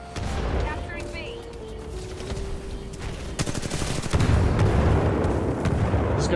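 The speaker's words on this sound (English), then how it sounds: "This guy just threw 2 frag grenades simultaneously." Explosions and gunfire fill a Titanfall 2 multiplayer match as two frag grenades go off, dense rapid bursts building toward a loud cluster around the middle, with a game announcer voice and tones early on.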